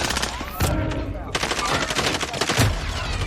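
Bursts of AK rifle gunfire in Call of Duty Cold War, played on the Alcatraz map, come as sharp repeated shots over a dense, busy game soundscape.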